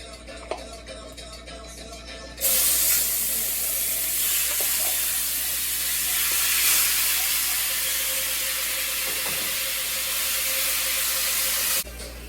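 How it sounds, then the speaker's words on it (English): Pork frying in hot oil with brown sugar, a loud steady sizzle that bursts in suddenly and holds for about nine seconds before cutting off, with no voices. "we're gonna mix that in with the oil, and then begin to throw our pork in there"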